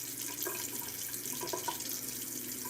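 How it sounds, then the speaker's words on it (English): Tap water runs steadily into a sink while a face is washed, a soft continuous hiss and splash with faint irregular splashes from hands in the stream, with no talking. "So before I use the Aztec clay, I always wash my face first."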